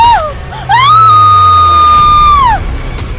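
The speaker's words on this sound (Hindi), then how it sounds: "जब उस तेज धार शीशे से नेहा का गला कटा तो एक दबी सी चीख उसके मुंह से निकली" A horror-story sound effect of a woman's scream rings out loud and close. It starts with short cries, then becomes one long, sustained, high-pitched shriek that breaks off, over a low rumbling background.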